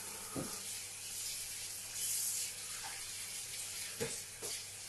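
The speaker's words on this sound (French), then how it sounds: "Donc je vais juste rincer ça, j'arrive tout de suite." Water from a tap runs steadily over an ink-covered cutting board as it is rinsed, a close, constant splashing hiss with a few louder splashes.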